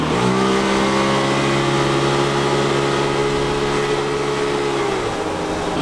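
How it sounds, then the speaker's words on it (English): Polaris off-road buggy accelerating hard, its engine drone holding loud and steady with rising harmonics before easing off near the end. "When you put your foot down, the buggy actually, it feels like it's going to do a wheelie because the front end comes up."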